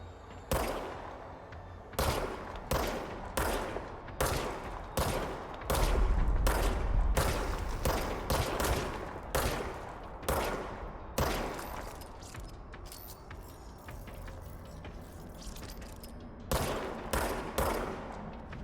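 Repeated gunfire from the video game Control, sharp shots in short bursts and single cracks spread across the stretch, loud and close with brief quiet gaps between volleys.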